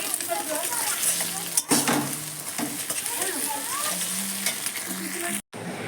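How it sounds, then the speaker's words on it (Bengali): An egg fries in a pan for chow mein, giving a continuous close sizzle with occasional light stirring, while someone talks over it. "আর এই যে চাউমিন ডিমটা একটু ভাজা ভাজা হয়ে গেলে তারপর চাউমিনটা দিয়ে দেবো"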